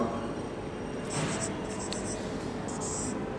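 Pen or pencil scratching out math fractions by hand on paper, a few short soft strokes in brief bursts, quiet and close over a steady background hiss.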